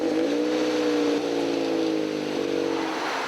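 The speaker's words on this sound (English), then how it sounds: "a muffler fails the noise test in Nainai" A car with a failing, loud muffler is revved during a police roadside noise test, giving a strong droning engine tone that dips slightly partway, then holds steady and loud.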